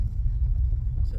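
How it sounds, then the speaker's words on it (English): A car rolls along a gravel forest service road in Daniel Boone National Forest, Kentucky, giving a steady, fairly quiet low rumble of engine and tires heard from inside the cabin. "we're loaded back up in the car, driving back out Forest Service Road 551, ready to head home"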